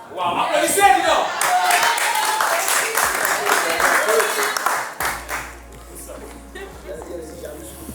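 Audience applause and scattered cheering at a speed dating show after a couple forms, loud and dense for about five seconds, then fading into quieter room noise with a low hum.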